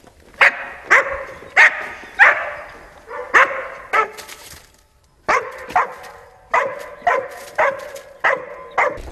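Croatian fire-service urban search-and-rescue dogs bark close by in a loud, regular series, one sharp bark after another. The barking breaks off for a moment and then resumes at a steady rhythm.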